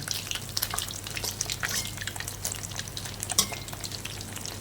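Pieces of fish deep-frying in hot oil until golden and crispy, a close, steady crackling sizzle full of dense little pops with no voices.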